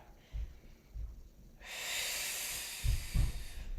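Breaths during a yoga core exercise: a couple of short nasal exhales, then a longer audible hissing exhale, followed by more quick puffs of breath, close and fairly quiet.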